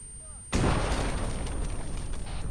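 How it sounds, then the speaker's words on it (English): TOW missile explosion in the video game Arma 3, a sudden loud close boom followed by a long rumbling roar and debris noise that sustains to the end. "I'm injured from that fucking explosion."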